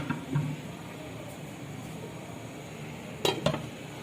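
A lid is set on a cooking pot of beef bhuna with tomatoes and spices, giving a couple of quick metallic clinks over a soft, steady background sizzle in a kitchen.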